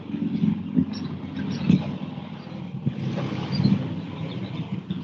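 Cars speeding down a residential street turned drag strip, a low engine roar that swells and passes more than once, moderately close, with steady rumbling noise between the passes.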